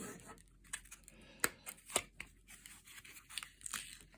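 Close, faint crackling cuts and snaps sound in irregular bursts as a utility knife slices around the edge of a heated equestrian boot's battery casing.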